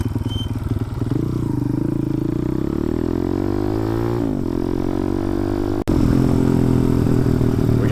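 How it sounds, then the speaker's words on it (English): Several motorcycles rev hard and ride past, engine pitch sweeping up through gear changes in a steady loud roar, with a sharp clack partway through and continued close engine noise afterward. "We got some fellow bikes up here. See if they're gonna rip or they're gonna go slow."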